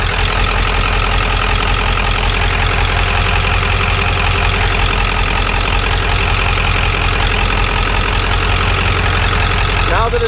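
A vehicle engine idles steadily after motor work, a constant low rumble and hum running throughout at close range.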